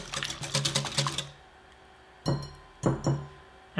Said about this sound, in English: with a fork or a whisk, let's just whisk this together